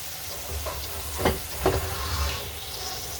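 Korean-style bulgogi short ribs sizzle steadily in a hot pan, a continuous close frying hiss with a few brief bursts of spattering, no talking.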